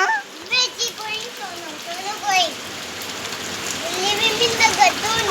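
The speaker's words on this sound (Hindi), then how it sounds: "Rain." Rain falls steadily on surfaces outdoors during a monsoon shower, a continuous patter under a voice and an adult speaking nearby.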